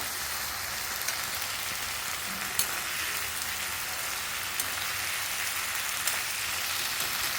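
Mixed vegetables sautéing in oil in a pan for Tamil vathal kulambu, a steady soft sizzle with faint crackles and occasional stirring clicks, no voices.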